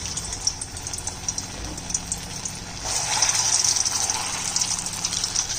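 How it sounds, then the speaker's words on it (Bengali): A kitchen mixer grinder whirs as it blends boiled dried chillies and tomatoes into a paste, giving a steady whirring roar that grows louder and fuller halfway through. "মিক্সিতে পেস্ট করে নিচ্ছি"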